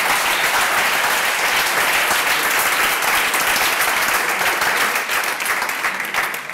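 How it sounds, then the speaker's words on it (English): Conference audience at a closing session applauding the sponsors, dense sustained clapping from a large crowd that holds steady for several seconds before tapering slightly at the end, with no talking over it. "give a big applause to all the sponsors"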